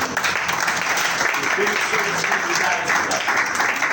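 A church congregation claps together in steady, dense applause that fills the room throughout, with voices audible underneath the clapping.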